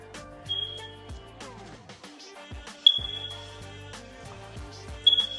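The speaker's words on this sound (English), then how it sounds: "at least you got background noise with the alarm" A house alarm in a newly built El Sereno home gives short high-pitched beeps every couple of seconds, sounding over a busy room with voices and other indoor noise.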